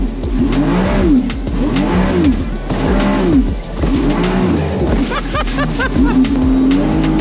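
Jet ski on the Nemunas river: a loud, close engine with a droning, repeatedly rising and falling pitch as the throttle varies, under steady wind and water rush.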